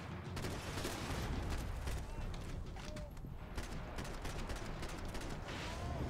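Dense gunfire from the video game Max Payne 3 crackles in rapid bursts throughout, loud and continuous, with a thick layer of combat noise behind the shots.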